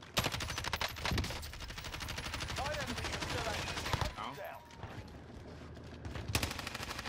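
Rapid automatic gunfire from Call of Duty Warzone with a Kilo 141 rifle, dense bursts of shots running through most of the stretch, loud and close, with brief sharp reports near the end.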